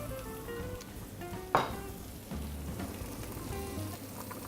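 Gentle sizzling of oil in a frying pan over low heat, a soft continuous crackle with a brief sharp pop midway, fairly quiet and with no talking.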